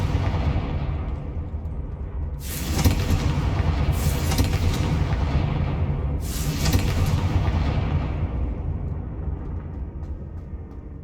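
Confringo blasting spell in Hogwarts Legacy, three sharp explosive booms at spaced intervals over a continuous low rumbling background, loud and close.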